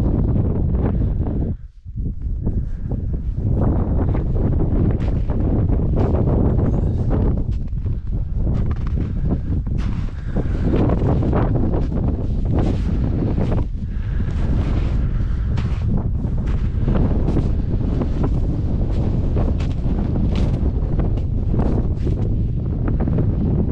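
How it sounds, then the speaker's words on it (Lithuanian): Strong wind gusts across a mountain campsite beside a tent on an Easter weekend hike to Sionosi (1102 m), roaring and buffeting the microphone loudly and continuously, with one brief lull early on. "nusileidus nuo kalniuko, mažesnis vėjas"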